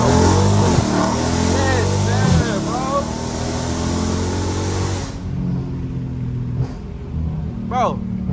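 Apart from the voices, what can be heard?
straight-piped 2022 widebody Dodge Charger engine accelerating in first gear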